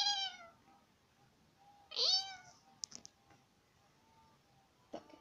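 A domestic cat meows several times indoors, a clear drawn-out call at the start and another midway, with small clicks and a short sound near the end over quiet background.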